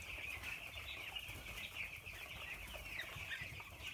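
Chickens shut inside a warm coop with a mesh door give off a steady, close bed of clucking and rustling with some wing flapping, holding at an even level the whole way through with no voices.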